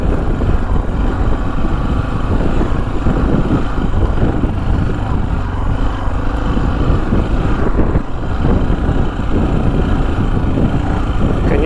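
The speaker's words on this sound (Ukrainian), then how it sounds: "Мотоцикл справляється дуже добре." Engine of a Chinese motorcycle travelling a dirt road through hunting grounds, a continuous loud rumble with wind noise and bumps, steady throughout with a brief dip near the end.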